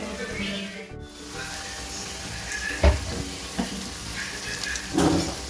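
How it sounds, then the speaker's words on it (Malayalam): Snacks frying in hot oil over a medium flame, a steady close sizzle and bubbling with a few soft clinks and stirring scrapes from a utensil in the pan. "ഇതുപോലെ ബാക്കിയുള്ളതെല്ലാം നമുക്കിങ്ങനെ ഫ്രൈ ചെയ്തെടുക്കാമേ"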